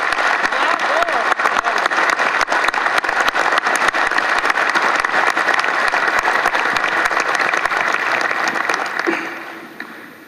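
Crowd applause fills a political rally, a dense, steady clapping from many hands that carries on at full strength before tapering off toward the end.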